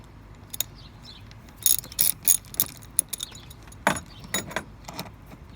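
Ratchet clicks in short bursts as bolts are backed out of the airbox on a Mercedes-Benz during a spark plug change, close and crisp with metallic jingles and no talk.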